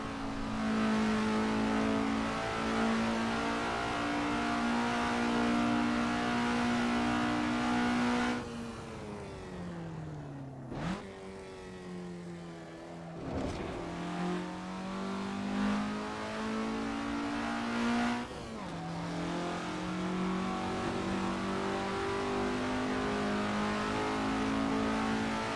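A racing car on a lap of Thruxton circuit, its engine droning loud and steady at high revs, dipping briefly at gear changes before climbing again, heard from inside the car.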